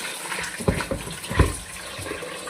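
Water poured over cut raw chicken to wash it, heard as a few short splashes and sloshes in a container, fairly close, with quieter trickling between them.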